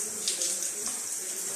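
Water sprays hard from broken plumbing in a house on Detroit's east side, a loud, steady hiss with small surges, close by and with no voices.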